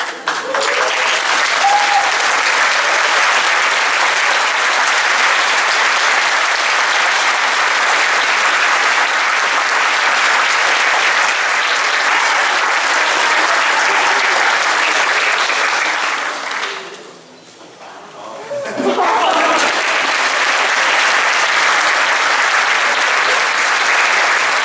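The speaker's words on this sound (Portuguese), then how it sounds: "eu pedia uma grande salva de palmas aqui para o nosso Valadão" Loud, dense applause from an audience at a carnival dance show fills the hall continuously, dipping briefly to a quieter moment before surging back at full strength.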